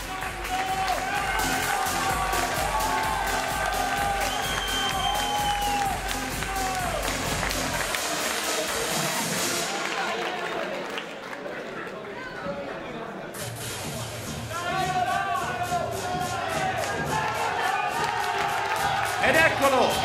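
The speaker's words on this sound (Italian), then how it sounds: "Ma vorrei anche un grande applauso per un grande guerriero del ring" Arena crowd at a Muay Thai event clapping and cheering for a fighter, a loud sustained wash of applause and voices with music-like tonal layers, dipping briefly midway before swelling again.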